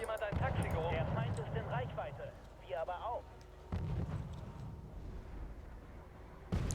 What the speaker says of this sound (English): Still pumping more and more mortar rounds into this town, or this forest